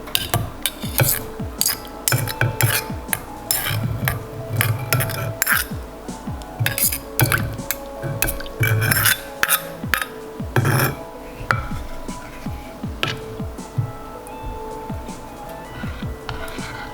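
Miso is stirred and dissolved in a pot of bamboo shoot and wakame soup, with steady scraping, clinking and tapping of a utensil against the pot, close and busy throughout.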